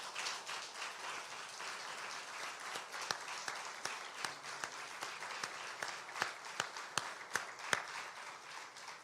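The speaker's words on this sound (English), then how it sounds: "let's give them a round of applause" A room applauds the city's Department of Finance staff as they stand; steady, fairly faint clapping from many hands continues throughout with a few sharper individual claps near the end.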